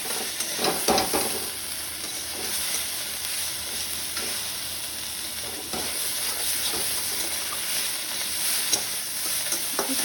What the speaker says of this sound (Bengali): এখন আমি চিংড়ি মাছটা ভেজে নেব